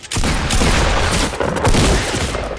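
A sniper rifle shot in Fortnite, loud booming report within a dense, continuous wash of battle noise and repeated heavy thuds lasting a couple of seconds.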